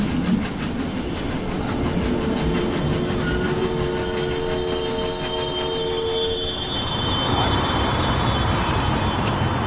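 A passenger train rolling along its rails in the Chicago area, with a steady rumble and rhythmic wheel clatter, squealing wheel tones, and a continuous loud roar that persists throughout with no speech.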